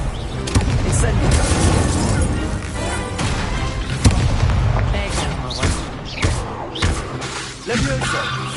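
Spell effects in the Hogwarts Legacy video game, including the Incendio fire spell: repeated booming bursts and whooshing impacts crowd a dense, busy game soundtrack, with a voice speaking intermittently over the action.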